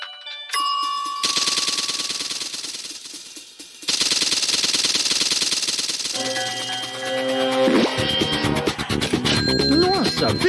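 A cartoon telephone-train in a Pocoyo episode rings with rapid, bell-like trilling bursts, loud and close, that start and stop over a busy bed of bright musical effects.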